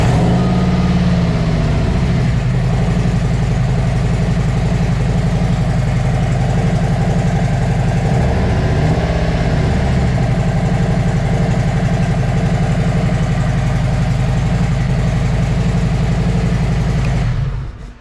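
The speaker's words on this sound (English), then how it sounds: "So let me go ahead and crank the bike up." A Harley-Davidson motorcycle engine cranks over and settles into a loud, steady, rumbling idle close by, with a short rev partway through, running almost the whole time before cutting off at the end.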